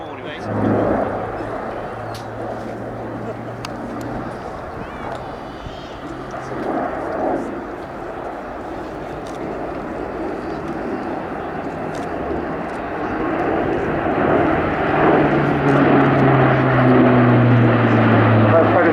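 Airbus A400M military transport aircraft flying a steep banked turn after takeoff at an air show, a droning turboprop engine roar that swells louder toward the end, with a commentator speaking over it.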